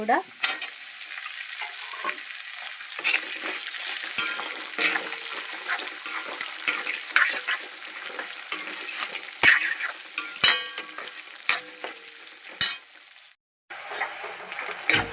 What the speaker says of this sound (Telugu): ఉల్లిపాయలు అయితే వేగిపోయాయి